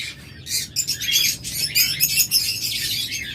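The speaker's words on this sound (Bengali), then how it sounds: "প্রচুর লাভবার্ড রয়েছে আমাদের কাছে" Many lovebirds chirp and squawk at once in a busy, continuous chorus inside a bird shop, loud and close, like a crowded aviary.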